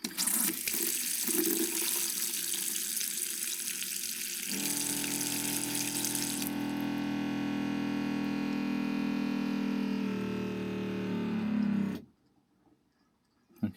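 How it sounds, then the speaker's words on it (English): A newly fitted engine water pump on a Fiat Ducato runs loudly with a gushing, sputtering rush while priming, shifting in tone midway, then cuts off abruptly, leaving near silence. "the pump's still relatively noisy, isn't it?"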